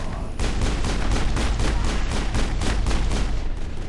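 Rapid, rhythmic pistol shots in the Mass Effect video game, a fast steady string of loud cracks after a brief quiet start, with a low rumbling background under the shooting and no talking.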